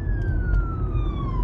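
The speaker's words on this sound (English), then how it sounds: "other than that ambulance going by." An ambulance siren passes by outside, a steady wailing tone that slowly drops in pitch as the vehicle moves away, loud and continuous over low rumbling traffic noise.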